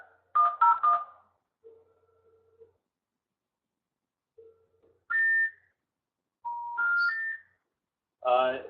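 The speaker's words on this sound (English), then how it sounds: "Let me call the other conference room" Telephone keypad tones sound while calling a conference room, a quick cluster of dialing beeps followed by spaced single tones and short tonal bursts, separated by quiet gaps.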